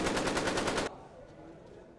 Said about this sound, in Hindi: ये देखिए रूसी सैनिकों की ताबड़तोड़ फायरिंग।